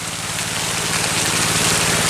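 Steady rain falls outdoors beside a drained pit, a loud, continuous wash of hiss with a low droning hum underneath, no voices.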